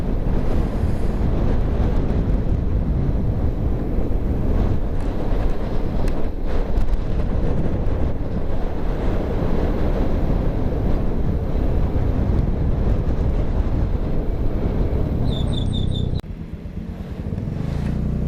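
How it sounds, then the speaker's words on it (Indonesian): Strong wind blasts steadily across the microphone on the open Dieng plateau near Kawah Sikidang, a loud, continuous roar filling the whole stretch, easing briefly near the end. "anginnya kenceng banget nih"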